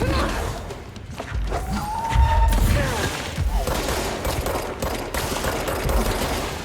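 Dense, rapid gunfire bursts from the video game Control, loud and continuous with thuds and impacts layered in a chaotic combat mix.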